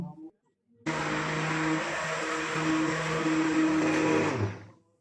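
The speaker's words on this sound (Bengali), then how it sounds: "এবার ব্লেন্ড করব" A kitchen blender whirs steadily as it blends a coconut water and spirulina drink, a loud close motor roar starting abruptly and holding for several seconds before winding down.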